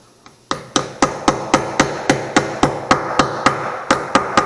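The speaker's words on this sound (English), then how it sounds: "I'm just going to hammer this on" Steady hammer blows ring out as a wheel weight is hammered onto a tire rim, about one every quarter second, sharp and near, each strike followed by a short metallic ring.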